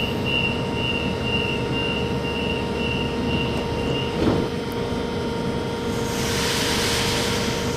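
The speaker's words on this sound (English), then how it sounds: "Series 1 Waratah A10 now departing platform number 5, Penrith service" A Sydney Series 1 Waratah A10 electric train pulls away from platform 5 on a Penrith service, a steady close rumble with a sustained high whine, a brief rising swell midway and broadband hiss growing toward the end.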